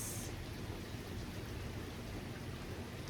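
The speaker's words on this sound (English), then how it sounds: "listening to the sound of the rain" Steady rain falls throughout, a soft, even hiss of drops on surfaces with a faint low rumble beneath, no voices present.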